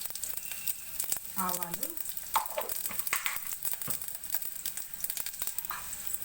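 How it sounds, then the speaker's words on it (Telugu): Onion frying in oil for sambar gives a steady sizzle with crackles and stirring scrapes, while a voice speaks briefly over the cooking. "ఇందులోనే ఒక ఆనియన్ బాగా ఫ్రై అవ్వనివ్వాలి."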